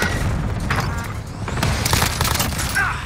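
A frag grenade blast in a squad video game, a dense, loud booming roar that fills the whole stretch, with rumbling low end and crackling debris over it.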